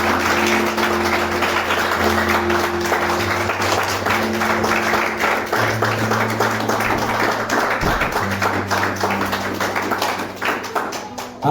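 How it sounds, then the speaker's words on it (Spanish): A church congregation claps together in a steady, dense wash of palms, loud and sustained, with a low organ or keyboard drone held underneath throughout. "Dale más fuerte esa ofrenda de palmas"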